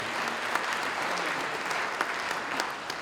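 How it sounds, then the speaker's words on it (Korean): Members at a church general assembly session clap together, a steady, fairly soft wash of applause from a crowd in a hall, running evenly throughout without talk over it. "우리 박수 한번 칩시다"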